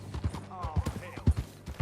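Horse hooves in Red Dead Redemption 2 clop in an uneven rhythm of thuds, close and moderately loud, with a soft voice murmuring between the steps.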